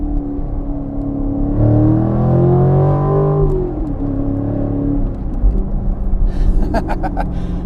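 A C7 Corvette Grand Sport accelerates hard, its engine note rising loud and close in a deep roar, then easing into a steady rumble with some road noise.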